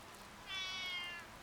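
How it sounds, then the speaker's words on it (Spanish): A single cat meow in the video game Re:Turn 2 Runaway, one drawn-out, clear, tonal mew rising and fading over about a second, close and alone against a faint quiet background. "It's just a cat."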